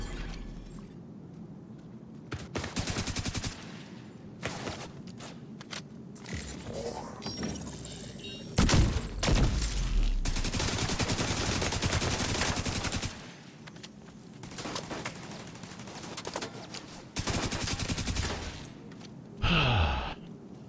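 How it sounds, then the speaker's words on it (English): Rapid automatic gunfire from a rogue assault turret in The Division 2, loud bursts of fire coming in long stretches with short pauses between them, over the noise of a game battle and with no talk. "Rogue assault turret detected."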